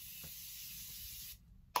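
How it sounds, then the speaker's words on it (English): A makeup setting spray mists out in one steady hiss of about a second and a half, close and clear, then cuts off, followed by a faint click. "Oh, setting spray. I always do setting spray."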